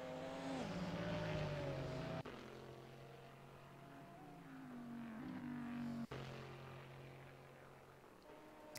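GTE race car engines in Assetto Corsa at Monza's Ascari chicane, one car stuck behind another: a loud, continuous engine drone whose pitch climbs and drops through gear shifts, with two sharp clicks and no talk.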